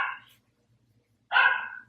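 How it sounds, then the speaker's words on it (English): A pet dog barks twice indoors, two sharp, fairly close barks separated by a short silence. "Sorry about my dog barking."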